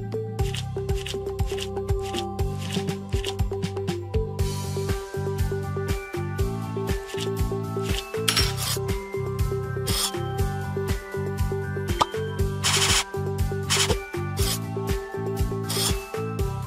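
Repeated rubbing and scrubbing effects play as iodine is applied to skin in an ER surgery simulator mobile game. The rhythmic, rasping strokes run over steady game music throughout.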